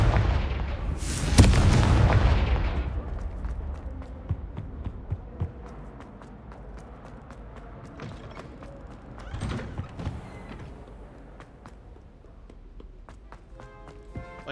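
A Confringo explosive spell in the video game Hogwarts Legacy, a loud burst of impact early on followed by softer crackles and a second smaller hit, with faint game sounds trailing after.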